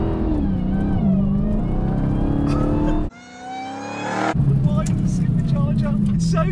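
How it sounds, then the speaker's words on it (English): Supercharged Dodge Demon engine revving hard, a deep roar with a rising supercharger whine, briefly dropping off mid-rev before surging again, loud and close. "Supercharger. It's so good, just that noise."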